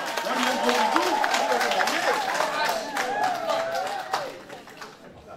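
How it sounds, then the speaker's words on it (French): Guests at a civil wedding ceremony clap, a dense burst of applause mixed with crowd chatter and voices that carries on for several seconds before thinning out toward the end. "On applaudit très fort."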